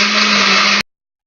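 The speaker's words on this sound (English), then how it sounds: "and just blend it up." A cheap countertop blender whirs loudly while blending a plant-based green smoothie, a steady high motor roar with a low hum that cuts off abruptly to silence.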